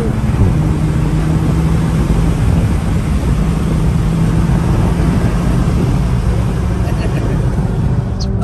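Steady low engine rumble and road noise from inside a moving car, constant and fairly loud throughout.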